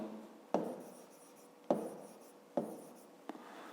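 Pen writing digits on paper during a fifth-grade maths exercise: four sharp taps spaced about a second apart, each followed by a short scratchy stroke, close and quiet with no talking.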